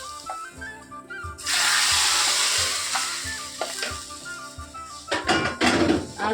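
A curry tempering being poured into the pot, with curry leaves in the hot oil, bursts into a loud, sustained sizzle and hiss, settling into steady crackling before a few sharper clatters near the end.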